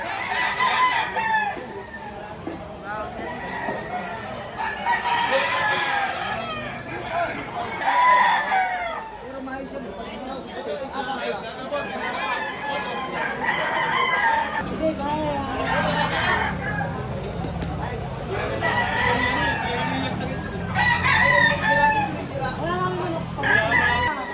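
Gamecock roosters crow repeatedly at a busy outdoor fowl market in Lipa, Batangas, several birds overlapping near and far amid clucking, while people talk and haggle throughout.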